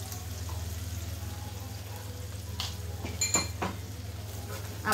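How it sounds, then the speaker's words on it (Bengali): Salt, turmeric and dry chili powder fry together in a pan, a soft sizzle over a low steady hum, broken by a few sharp clinks of a utensil against the pan near the end. "এখন আমি সুন্দর করে কষিয়ে নেব সব মশলাগুলো একসঙ্গে"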